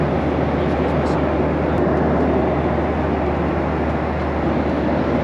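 Loud, constant roar inside an airplane cabin in flight, a dense steady broadband hum of engines and airflow with a low drone underneath, unbroken throughout.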